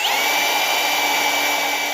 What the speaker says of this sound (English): I'm gonna go ahead and just drill a little pilot hole right through there